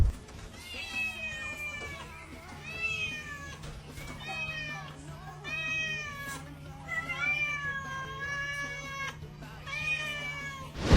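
A two-year-old puspin cat meows repeatedly at its owner in a string of loud, drawn-out, insistent cries with short pauses, over a low steady hum.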